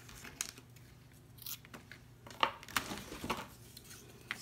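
Scissors snip through a thick, very long head of hair in a few scattered crisp cuts, close and fairly quiet with no talking.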